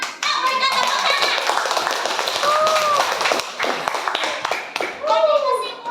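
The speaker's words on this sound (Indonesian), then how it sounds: "Mantap, berikan tepuk tangan." A classroom applauds a student with a burst of clapping and tapping, mixed with children's chatter and an overlapping adult voice, fading briefly before another round.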